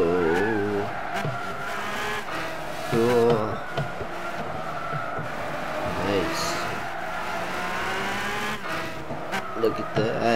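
A McLaren F1 racing in Gran Turismo 6, engine rising and falling through gear changes with tire squeals and skids, loud and close, while someone talks over it.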